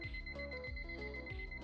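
A digital kitchen-style timer beeps in a rapid, repeating electronic pattern, bright and steady throughout the short burst, with no talking over it.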